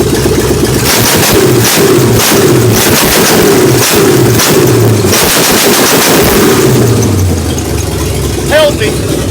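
A 388 small-block Chevy V8 runs on its first start after a carburetor and HEI distributor swap, with headers fitted, giving a loud, rough, choppy rumble close up that holds steady throughout.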